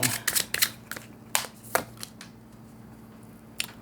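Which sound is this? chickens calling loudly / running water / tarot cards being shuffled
tarot cards being shuffled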